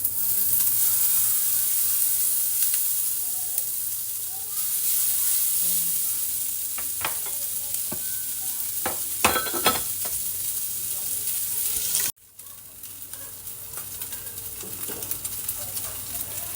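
Bihon rice noodles sizzle steadily while being reheated in a pan at home, a loud continuous fry hiss with a few utensil clinks and stirring scrapes, dropping briefly near the end.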